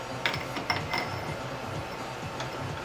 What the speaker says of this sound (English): then we stick it in the pipe vise like this